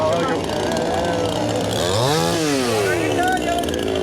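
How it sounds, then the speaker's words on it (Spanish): A costumed child's toy-style chainsaw prop at a Coyoacán costume event drones loudly and steadily, its engine pitch swooping up and back down midway, with street crowd noise around it. "el niño de la motosierra."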